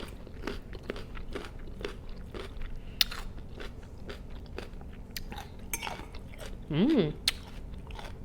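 Raw radish eaten at a vegan salad dinner: steady crisp crunching and chewing close to the mic, with a brief hum of enjoyment partway through.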